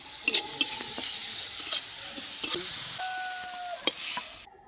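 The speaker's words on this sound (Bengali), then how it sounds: "কিছুটা লবণ, কিছুটা হলুদ দিয়ে ভালো করে আমরা এটাকে ভেজে নেব" Fish seasoned with salt and turmeric frying in a pan, a steady sizzle broken by the scrape and knock of stirring, with a few sharper clinks along the way, fairly close and with no voices.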